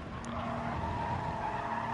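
Race car in a Le Mans racing video game braking hard into a corner, a steady tire skid and engine drone lasting about two seconds, moderately quiet.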